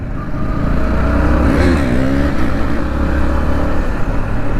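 A motorcycle engine, one of a group ride including an MT, an NS 390 and a V2, revs loudly and steadily up close with a rising pitch sweep mid-way, as during a wheelie, with no talk over it.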